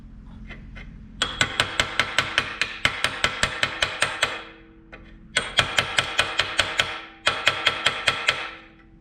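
Rapid metallic hammering on a thin aluminum radiator during repair, in several bursts of evenly spaced ringing strikes separated by brief pauses, loud and close.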